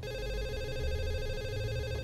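A telephone rings in the video game The Assembly, a steady, continuous electronic ring that stays at an even, moderate loudness throughout, with no voices over it.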